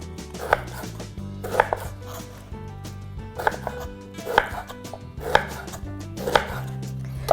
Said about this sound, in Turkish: Sonra ayvayı şöyle size göstereyim elma dilimi gibi yarım santim kalınlığında doğrayacağız.